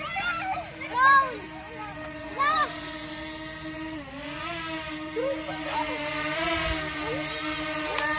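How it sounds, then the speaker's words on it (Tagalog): A steady mechanical whine hums through the whole stretch from a DJI Mini SE drone hovering nearby on its first flight, with children's voices calling out over it. "drone, ang galing."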